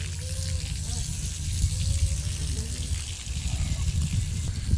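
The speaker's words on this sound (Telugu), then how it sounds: "అయ్య నీళ్ళు పడుతుండు" A tap running water into a container at home: a continuous rushing stream under a steady low hum, with faint background voices now and then.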